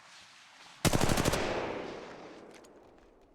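A sudden burst of rapid automatic gunfire in the video game Apex Legends, a quick string of close, sharp shots followed by a long ringing decay into quiet.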